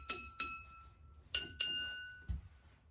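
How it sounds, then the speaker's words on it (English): Water-filled drinking glasses are struck to sound tuned notes: four bright ringing clinks in two pairs, each tone sustaining and fading, followed by a soft dull knock, with no voices. "experiment with some different cups and see if you can find a way to play a song using water"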